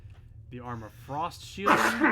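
A person sneezes once, abruptly and close, during conversation while playing a game; voices speak just before the sneeze.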